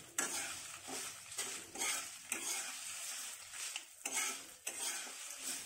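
Dry red chillies roast with rock salt in a pan for drumstick-leaf chilli powder. Repeated loud, gritty scraping and rattling strokes come in a fairly steady rhythm, close up and without talk.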